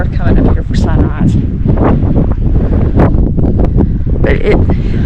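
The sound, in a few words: wind on mountain summit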